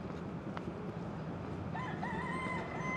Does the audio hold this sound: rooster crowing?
yes